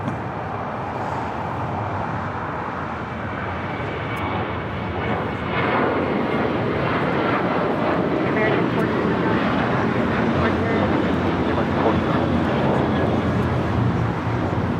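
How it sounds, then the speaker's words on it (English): An American Airlines Boeing 737-800 takes off from LAX with a steady, loud jet engine roar that grows stronger partway through and holds at full power. "This is American Airlines 1409 taking off to Nashville on a 737-800."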